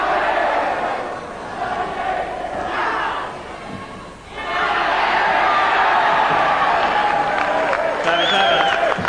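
A large arena crowd at the 1996 All England Open badminton championship roars and cheers, swelling after a brief dip into a sustained, loud wall of shouting and applause, with a commentator talking over it.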